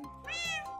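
A cat in a Minecraft game animation gives a single clear, close meow, rising and falling in pitch, alone without talk.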